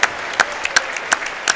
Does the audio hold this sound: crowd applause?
yes